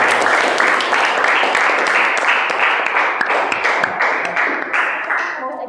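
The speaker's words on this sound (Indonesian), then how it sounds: "Tepuk tangan untuk kelompok 1." Classroom applause for a student group during a social-emotional learning lesson, a room of students clapping in quick, uneven claps, close and lively, tapering a little near the end.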